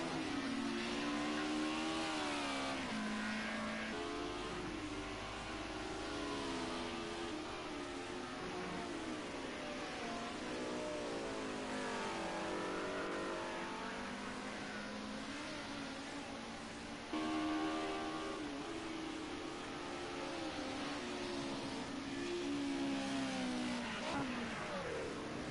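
Group A touring race cars on out laps at Oulton Park, engines rising and falling in pitch as they rev and pass, a steady continuous engine drone heard from a distance.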